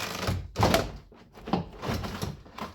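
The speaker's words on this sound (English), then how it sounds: "Now just lift the door panel" Plastic interior door panel of an Audi A6 1.8T being pried and lifted off the door, a series of close thunks, clicks and scraping rattles in uneven bursts.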